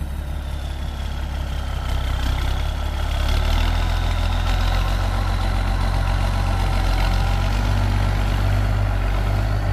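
A TS115 tractor engine runs steadily close by, a loud, continuous low rumble with a slight rise in level partway through and no talking.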